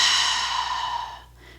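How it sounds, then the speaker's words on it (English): A slow, deep exhale fades out gradually during a yoga hip stretch, soft and close, with no speech alongside it. "Lots of deep breathing here."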